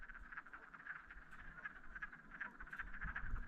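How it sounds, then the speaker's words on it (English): A chorus of frogs croaks and trills continuously in the distance, a steady pulsing drone with low rumbling underneath. "You hear the frogs"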